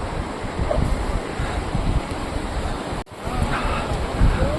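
Rushing water flows down from the mountains near Badrinath Dham in Uttarakhand on a cold early morning, heard as a steady, loud broadband roar with wind buffeting the microphone and a brief dropout partway through.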